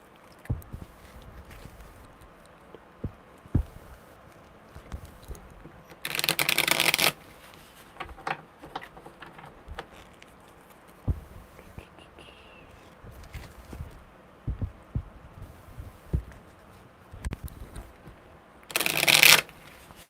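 Tarot cards riffle-shuffled in two loud, dense bursts, with softer card handling, taps and light rustling scattered between them.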